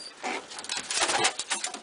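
Pigeons in a loft coo softly in a low, repeated murmur, with brighter rustling and fluttering layered on top through the short stretch.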